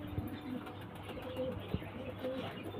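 Pigeons from a market collection cooing softly in short, low calls spaced across a quiet, faint background, with a couple of slightly louder coos.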